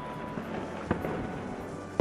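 Fireworks set off outdoors at a New Year's celebration crackle and pop at a distance, with a sharper bang midway and another at the very end over a steady background hum.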